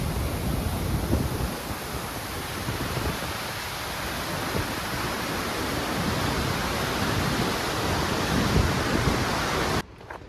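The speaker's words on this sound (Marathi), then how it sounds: "कसलं स्पीडने पाणी वाहत आहे" Fast-flowing water rushes at the head of Ruichonda waterfall near Mandohol Dam, a loud, steady broadband roar close to the microphone with wind buffeting, cutting off abruptly near the end.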